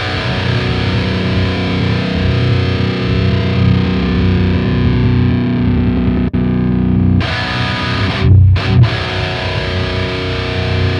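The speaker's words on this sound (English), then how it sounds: "Let's try the built-in pitch shifter" A heavily distorted electric guitar, pitch-shifted one semitone down by a built-in pitch shifter, drones loud and sustained, then stops briefly and comes back with a choppy, stuttering tail.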